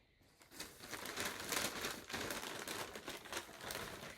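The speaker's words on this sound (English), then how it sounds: "I know the bag is super crinkly" Crinkly plastic bag holding a sock yarn set being handled up close, a continuous dry rustling and crackling with small bursts, running steadily for a few seconds with no talk.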